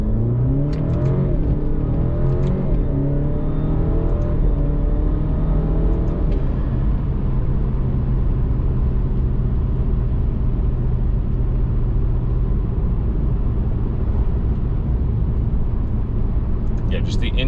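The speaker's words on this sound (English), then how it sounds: "we'll get a decent pull here and you guys can really hear the intake" Alfa Romeo Giulia fitted with a cold air intake pulls away hard from a red light, engine note climbing through the revs with a steady rumble and whir heard from inside the cabin.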